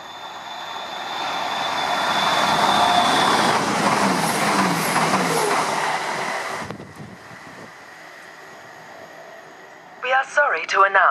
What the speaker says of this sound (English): the approaching train is not scheduled to stop at this station